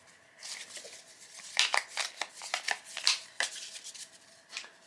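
Monument tiles for the board game Archaeology: The New Expedition are shuffled on a table, giving a close run of crisp clacks and riffling bursts with no talk.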